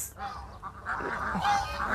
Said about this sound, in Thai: มีหาน หานก็เลี้ยงไว้กะ เวลามันเจอสิ่งแปลกปลอมเขาก็จะร้อง